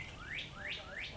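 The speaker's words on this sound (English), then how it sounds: "That bird sang for us." A bird sings in a lakeside park at Reynolds Creek on Lake Waco, Texas, three evenly spaced rising whistled notes over a faint low background rumble, moderately near.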